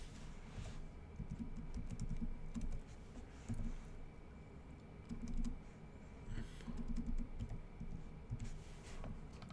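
Quiet, steady typing on a computer keyboard, with irregular bursts of key clicks and brief pauses, heard alone without talk.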